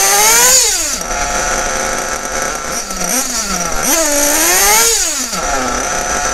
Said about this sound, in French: là on entend le moteur